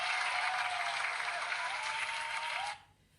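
Audience at a running club awards night claps steadily for a couple of seconds, a dense wash of applause that stops abruptly near the end.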